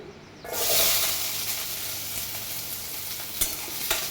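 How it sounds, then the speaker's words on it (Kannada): Chopped onions dropped into hot oil for paneer pepper dry, starting with a sudden loud sizzle that settles into steady close frying hiss, with a couple of brief stirring clatters near the end. "ಆಯಿಲ್ ಚೆನ್ನಾಗಿ ಕಾದ ನಂತರ ಕಟ್ ಮಾಡಿಟ್ಟಿರೋಂಥ ಈರುಳ್ಳಿನ ಹಾಕ್ಕೊಳ್ಳಿ"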